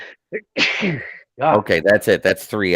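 One loud, close sneeze bursts out during a sports roundtable chat, and a person speaks right after it.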